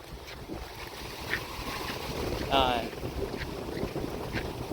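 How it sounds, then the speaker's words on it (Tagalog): Strong wind gusts roar and buffet the microphone steadily, with a brief louder rush partway through, in the aftermath of a typhoon in Hong Kong. "Lakas ng hangin"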